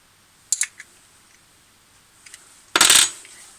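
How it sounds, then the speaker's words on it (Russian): A few small metallic clicks, then a short burst of ratcheting metal, close and brief, as an 11 mm wrench tightens a nut on an Ozon carburetor from a VAZ 2107. "Детали встали на место, затягиваем ключом на 11."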